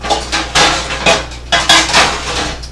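A metal colander and pot being handled while draining chicken soup, with a series of close clanks and knocks in uneven bursts, loud and clear with no talk.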